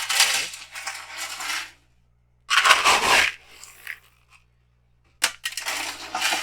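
All-purpose aquarium gravel is poured and spread in three loud, close bursts of rattling, crunching stones, separated by short silences.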